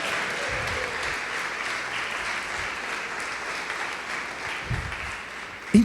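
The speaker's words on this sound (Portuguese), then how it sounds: "Pode aplaudir e glorificar o Senhor Jesus." A church congregation applauds in a steady, moderately loud wash of clapping that continues evenly for several seconds, with a brief knock near the end.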